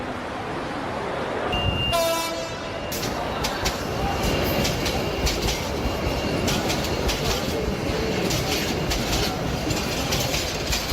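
A cartoon train arrives and rolls on: a short horn toot rings out early, then a continuous loud rumble of wagons with a rhythmic clatter holds steady to the end.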